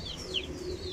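A pure Teddy pigeon, a male offered for sale, coos softly with a low murmur, with faint chirps above it, in a quiet moment lasting about a second.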